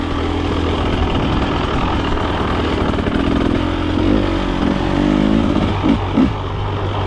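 A 2024 KTM 300 XC-W two-stroke dirt bike engine drones loudly and steadily, with a buzzing, rising-and-falling note near the end as the throttle shifts.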